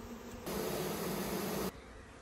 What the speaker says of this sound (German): Das war jetzt ein relativ kleiner Bienenschwarm